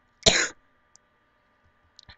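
A single sharp, close cough bursts out in a quiet room, followed by a few faint clicks and a tiny throat sound.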